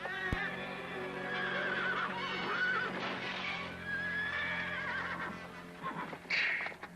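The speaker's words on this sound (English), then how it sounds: "John, get those horses unhooked" Horses neigh and whinny repeatedly beside a wagon amid a frantic scene, the shrill calls rising and falling close by over clip-clop and faint shouting in the background.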